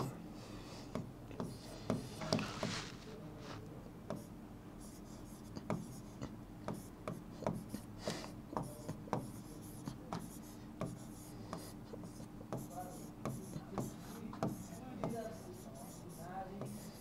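Pen strokes scratch across paper as business-studies notes are written out, a close, repeated rhythm of short scrapes and taps that runs throughout with faint background noise.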